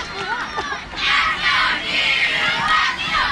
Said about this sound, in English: the crowd urging Dartmouth United on